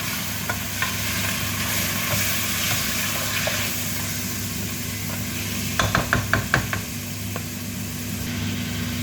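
Pancit noodles with chicken stirred in a sizzling pan, a soft continuous frying hiss with a short burst of spoon scrapes and taps near the middle.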